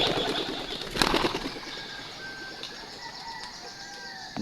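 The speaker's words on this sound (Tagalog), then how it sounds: "Ang ating mga kalapati." Pigeons taking flight outdoors on a cloudy day, a burst of flapping wings near the start over a busy background, followed by softer fluttering and distant bird sounds.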